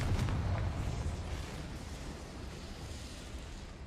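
A Confringo blasting spell from Hogwarts Legacy goes off as a deep rumbling explosion, loud at first and then slowly decaying into a long, noisy tail over a few seconds.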